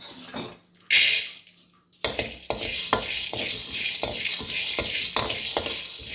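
Peanuts go into a frying pan: a few metallic clinks, a bright rattling pour, a brief pause, then a dense crackling hiss marked by regular scraping taps, loud and close.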